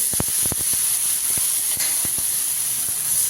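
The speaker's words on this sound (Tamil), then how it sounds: "தக்காளி நல்லா வதக்கலாம்" Ground tomato sautéing in a pan for mushroom curry gives a steady, loud hiss, with sharp clicks and taps of a spoon against the pan scattered through it and no talk.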